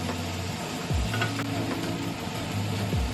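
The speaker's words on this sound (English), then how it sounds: "We're just gonna wait for the oil to heat up in the pan before we drop in our garlic." Two cubes of garlic sizzle in hot oil in a pan, a steady, fairly quiet crackling hiss with a low hum running beneath it, and no voices.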